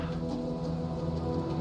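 Steady rain falls in Final Fantasy XIV, a dense, even hiss of drops on surfaces with soft low rumbling beneath, continuous and alone with no talk over it.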